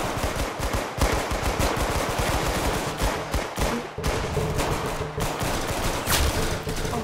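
Continuous rapid gunfire from a gun in the Roblox Arsenal video game, loud and dense, with shots overlapping in a steady rattling barrage and no talk.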